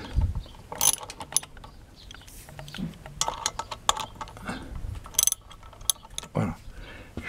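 Small metal parts click, scrape and clatter as the ignition coil is unbolted from a four-stroke lawnmower engine near the magneto flywheel, with scattered close clinks and taps and a few sharper metallic knocks.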